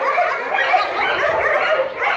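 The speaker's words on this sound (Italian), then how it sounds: "7 cuccioli bellissimi." Litter of seven abandoned puppies found in a sack, yelping and whimpering in a dense, continuous chorus of high cries, close and fairly loud throughout.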